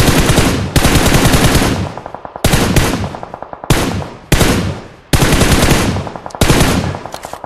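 Mobile shooter game gunfire aimed at enemies: five loud, rapid bursts of automatic fire, each cut off sharply and separated by short pauses.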